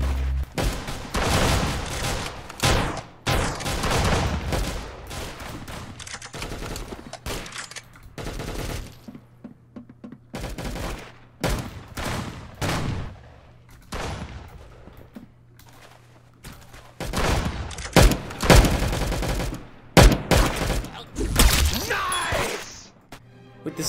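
A slug-firing shotgun in the video game Arsenal blasting repeatedly, loud sharp reports in irregular clusters with brief gaps, some shots landing in quick succession amid impact crashes and game effects.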